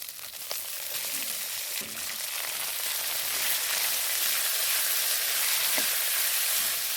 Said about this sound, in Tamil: தண்டை போட்டு ஒரு நல்லா பத்து நிமிஷம் நல்லா வதக்கி விட்றலாங்க